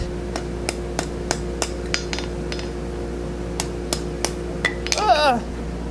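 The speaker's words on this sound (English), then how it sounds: "we're going to come in here, kind of hammer this back together a bit" A series of sharp metallic hammer taps at a steady pace on a gothic metal door knocker being made, ringing briefly, followed by a clattering jingle of dropped metal near the end.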